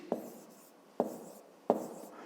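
Handwriting numbers on paper during a fifth-grade maths lesson: three distinct pen strokes or taps spaced about a second apart, each followed by a faint scratch, quiet and close without speech.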